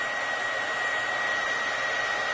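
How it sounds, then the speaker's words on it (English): A hair dryer blows steadily to thaw frozen pipes, a close, constant whirring roar with a thin high whine running through it, no voices. "Now we got the hairdryer going here."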